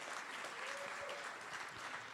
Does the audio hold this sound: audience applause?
yes